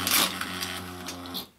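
A Beyblade BeyRaiderz Ninja Salamander toy vehicle is revved up, producing a short, steady mechanical whir with a buzzing tone that runs for about a second and a half before winding down, close and alone.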